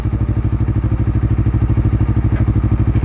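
Motorcycle engine running close and loud with a fast, even pulsing rumble, steady throughout with no distinct gear changes audible.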